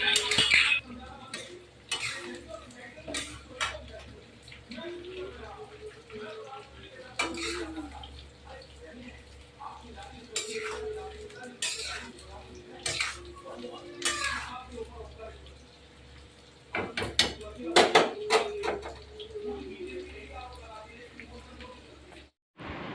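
Jackfruit is fried in a pan, with utensils clinking and scraping against the cookware and soft sizzling underneath. Someone talks throughout, and a few sharper metallic clatters stand out.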